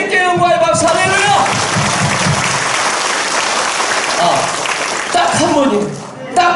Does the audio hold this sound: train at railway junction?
no